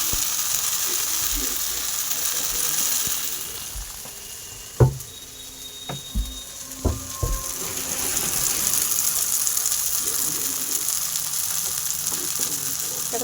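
Masala sizzles in oil in a pan, releasing oil at the edges; a steady close crackle runs throughout, broken by a few sharp clinks of a spoon against the pan.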